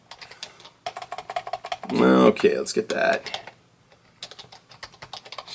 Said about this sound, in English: I am not typing good today.